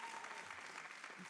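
A short burst of steady applause from a crowd at a mayor's community conversation on public safety, even and sustained, heard somewhat distant and quiet with no speech over it.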